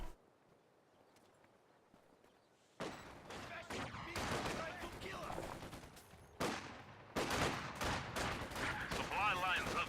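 Gunfire in the real-time strategy game Company of Heroes 2: after a quiet opening, dense rattling rifle and machine-gun bursts erupt, with sharp cracks overlapping into loud, sustained battle noise through the rest.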